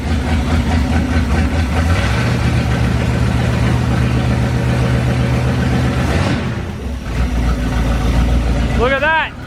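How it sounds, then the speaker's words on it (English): A 440 big block V8 idling in a 1970 Plymouth Duster, a loud, steady low rumble close by that dips briefly near the end, with a short chirp at the close. "Look at that, it even idles."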